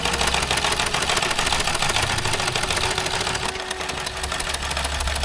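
A sewing machine stitching cloth runs in a fast, steady mechanical chatter, close and continuous for several seconds with a brief dip partway through.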